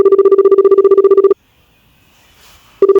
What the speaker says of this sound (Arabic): رن بقى عليه شوف هو فين.